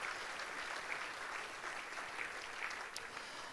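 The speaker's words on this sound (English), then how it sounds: "give him another round of applause" Audience applause at an awards show for a performer who just played with his full band, a quiet, even patter of many hands sustained from start to finish.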